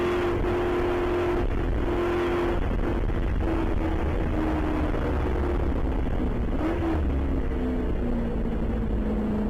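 Spec Corvette race cars roar on a race track, a loud continuous engine drone whose pitch slowly falls and briefly lifts, with no pauses.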